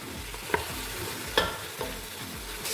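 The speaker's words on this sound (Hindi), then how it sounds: "अब इन सबको अच्छी तरह फ्राई करेंगे घी में।" Spiced mutton chops fry in ghee with a continuous close sizzle, broken by several distinct scrapes and knocks of a spoon stirring the pan.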